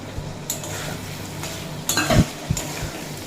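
Fried paneer is stirred into spiced vegetables in a pan: a soft sizzle under repeated scraping strokes and clinks of a spoon on metal, with a louder clattering flurry midway.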